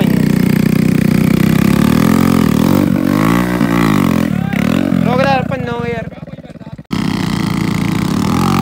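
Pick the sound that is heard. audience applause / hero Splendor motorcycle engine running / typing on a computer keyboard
hero Splendor motorcycle engine running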